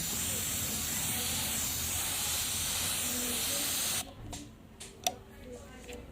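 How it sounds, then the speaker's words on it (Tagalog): Spray can hissing candy red paint onto a Honda Click scooter crankcase in a custom paint job, a steady close airy spray for about four seconds that cuts off, followed by faint clicks and small handling knocks. "Spray natin um, candy red."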